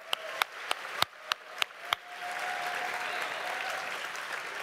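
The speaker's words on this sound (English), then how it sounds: "That's like the first applause of the panel." A few sharp, spaced claps ring out, then a convention panel audience breaks into sustained, steady applause that fills the room.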